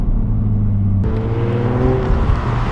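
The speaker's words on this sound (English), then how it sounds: "I can hear him putting the gas in before he lets the clutch out" A manual drift car's engine revs hard before the clutch kick, a loud close growl whose pitch climbs partway through as the throttle opens, with no talking.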